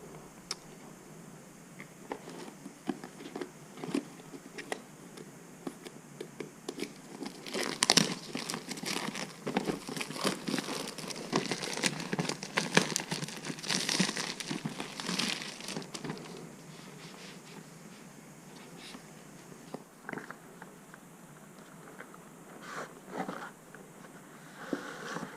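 A Noco Boost Plus GB40 lithium jump starter is unboxed with steady crinkling, rustling and sliding of packaging and padded inserts, loudest through the middle stretch. There is no talk.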